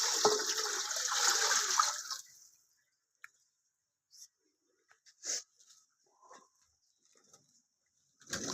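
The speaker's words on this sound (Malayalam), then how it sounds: "ഇനി വെള്ളം ഒഴിച്ച് കൊടുക്കാം" Water rushes into a pot of lightly softened onions for biryani in one loud, gushing pour lasting about two seconds, followed by near silence broken by faint clinks and small drips.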